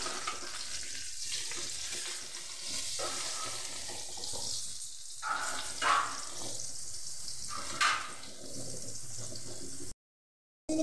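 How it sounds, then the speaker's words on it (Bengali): Eggplant slices coated in salt and turmeric sizzle in white oil on a hot griddle, a loud continuous hiss with a few sharper spitting bursts, heard up close without talk before it cuts off near the end. "এবার নুন হলুদ দিয়ে মেখে রাখা বেগুন আমি তাওয়ার তেলের মধ্যে ছেড়ে দিচ্ছি"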